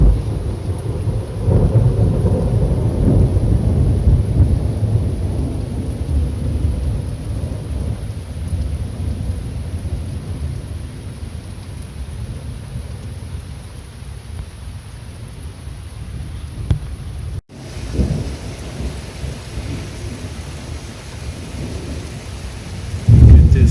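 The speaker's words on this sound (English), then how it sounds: "there's lightning and thunder everywhere." A thunderstorm on a motorcycle trip toward Maribor and Ljubljana brings steady, loud rain and deep rolling thunder, with a sharp break partway through before the rain and a final rumble resume.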